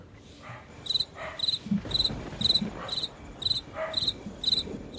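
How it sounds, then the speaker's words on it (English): Crickets chirp in a regular series of short, bright pulses, roughly two per second, over a faint, muffled background rumble. "Crickets chirping."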